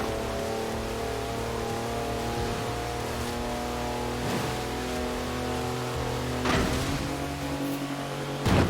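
A Mercedes wagon with a 340-horsepower engine drives in Forza Horizon 4, a steady loud engine drone with a few thumps and shifts in tone, no talk.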